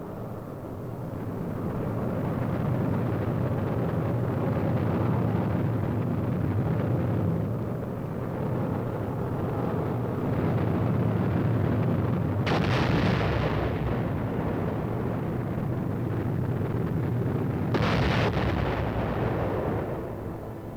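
Archive film of captured German V-2 rockets launching: a sustained, distant roaring rumble that swells and holds for many seconds, broken by two sharp bursts partway through, with no voices.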